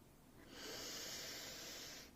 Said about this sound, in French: puis inspirez profondément